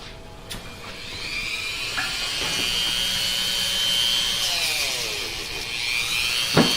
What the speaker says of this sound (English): grab the Dremel.